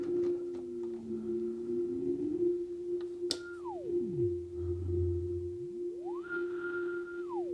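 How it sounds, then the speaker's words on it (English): Behringer Brains synth module drone with an LFO modulating its resonant filter, the pitch gliding smoothly up, dropping low, then ramping back high in slow sweeps over a steady hum, with no voices. "Alright, let's get an LFO happening."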